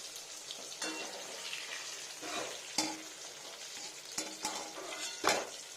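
Eggplant fries in a pan with a continuous hiss of hot oil, broken by several sharp scraping and clattering strokes of a utensil against the pan, all close and without talk.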